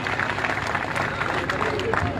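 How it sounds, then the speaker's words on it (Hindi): A crowd at a political gathering in Rajasthan claps together, a loud continuous patter of many hands mixed with faint murmuring voices. "तालियां बजाइए"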